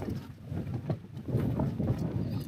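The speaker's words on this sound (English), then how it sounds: "Wind's picking up a little bit." Gusty wind of 30 to 40 mph buffets and rumbles against the microphone in uneven bursts at a wild campsite, with no voices.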